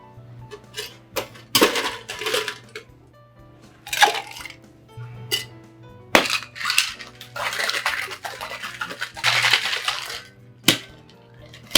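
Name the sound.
ice being shaken in a cocktail shaker for a gimlet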